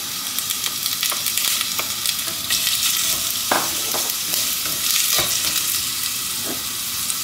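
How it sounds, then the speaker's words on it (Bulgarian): Onion sizzles steadily in hot oil in a frying pan, a continuous bright crackle broken by occasional louder pops and scraping stirs, with no voices. "Слагаме олио в тигана, включваме. Да загрея олиото. И слагаме една глава лук."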